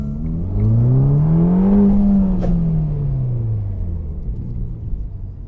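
A Ferrari Roma Spider convertible with a 3.9-litre V8 and eight-speed dual-clutch gearbox drives past loud and close, its engine note rising as it revs up and then falling away into a steady rumble, with no voices.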